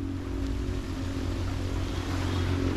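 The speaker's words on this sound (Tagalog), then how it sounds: "Ang maririnig mo lang ngayon, itong" Steady surf washing against the shore, a continuous broad rumble of waves with a low hum underneath, no voices.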